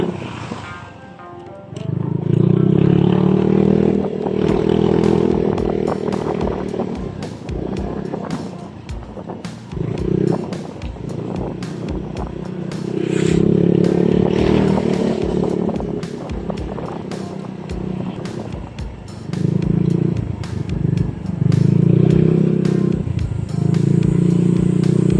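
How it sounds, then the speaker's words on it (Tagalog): A repaired Kawasaki ER150N motorcycle engine runs with a steady, loud drone that swells and eases in several long passages, like riding through traffic, with clatter and road noise around it. "okay na yung motor ni Pops."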